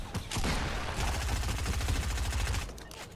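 Rapid automatic gunfire in a video game shooter, a dense, continuous burst of fast shots lasting several seconds, fairly loud and steady with no talking over it.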